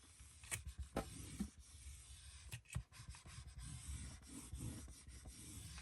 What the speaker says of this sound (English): Burnish that tape down really good.